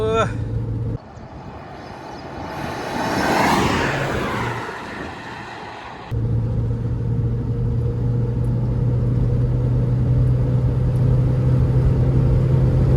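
A Ford Endeavour 3.2 and a Mahindra XUV500 run a drag race. Engine rumble rises and swells to a passing roar midway, then a steady drone holds while people talk over it.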